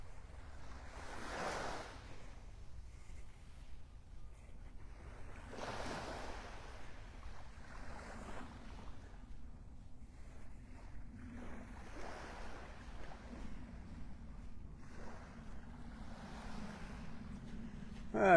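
Ocean surf on the beach at Delnor-Wiggins in North Naples, in the early morning: waves break and wash ashore again and again in soft, steady surges, with wind rumbling across the microphone the whole time.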